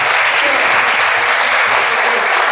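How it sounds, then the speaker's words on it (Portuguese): Dense, loud applause from an audience at an environmental education talk, honoring a teacher; continuous clapping with no gaps. "Vamos pedir uma salva de palmas pro professor Rogério?"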